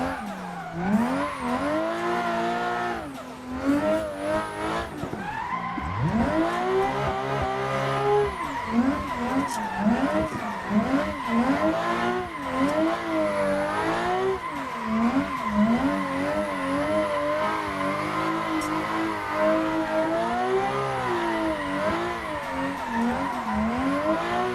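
A BDC V6 car drifting around Brooklyn Park in Assetto Corsa, its engine revving and wailing up and down continuously while the tires squeal through long slides, loud and steady throughout with no talking.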